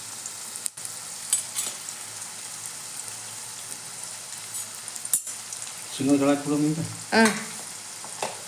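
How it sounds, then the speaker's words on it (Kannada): Food fries in a little oil, a quiet steady sizzle with scattered clicks and short bursts of stirring or scraping toward the end, a brief spoken interjection near the close. "ಈಗ ನೋಡ್ರಿ ಒಂದು ಸ್ವಲ್ಪ ಎಣ್ಣೆಗೆ ಫ್ರೈ ಆಗ್ಬೇಕ್ರಿ."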